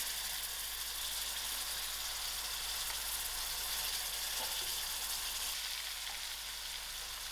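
Broad beans frying in hot masala oil, giving a steady, even sizzle with faint crackles, close up and uninterrupted, with no voices.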